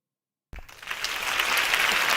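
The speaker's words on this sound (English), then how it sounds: "A round of applause for Allison Asfari." A lecture audience in a psychology class breaks into applause, rising quickly from silence into steady, sustained clapping from many hands that fills the room until the end.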